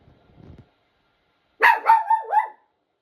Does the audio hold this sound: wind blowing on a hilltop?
no